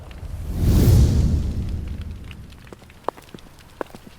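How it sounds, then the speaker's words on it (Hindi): Scattered water drips falling one by one after rain has stopped, sharp isolated ticks over a soft broad wash that swells early then fades, fairly close and quiet. "बाहर बारिश बंद हो चुकी थी, बस थोड़ा बहुत पानी टपक रहा था।"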